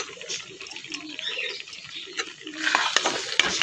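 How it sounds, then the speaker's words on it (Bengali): Rajma kidney bean masala curry topped with coriander leaves is stirred in a pan, making soft wet squelching and scraping that turns louder and brighter toward the end, up close, with no talking. "ভালো করে মিক্স করে নেব।"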